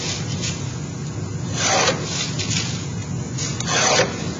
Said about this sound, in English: Or I can just take my scratch gauge and remark that perimeter.